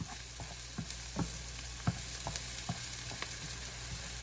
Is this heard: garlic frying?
yes